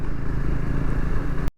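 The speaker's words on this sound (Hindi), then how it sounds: "चलो अब फिर से भगाता हूँ बाइक और पहुँचते हैं घर।" Triumph Scrambler 400X motorcycle accelerating on a highway, a steady loud engine drone with rushing wind for most of the moment before it cuts off abruptly near the end.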